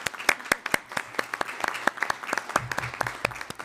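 A small group applauding at a transit board of directors meeting, scattered distinct claps in an uneven rhythm, fairly close and without talk.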